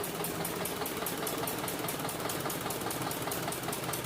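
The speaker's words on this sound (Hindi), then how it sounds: "ये चलता हुआ इंजन है" A flour mill engine runs at a steady idle, its rapid, even knocking pulse repeating continuously at moderate volume with no voices.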